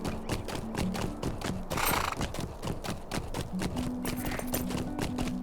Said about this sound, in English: We'll go ahead and stop the horse this time.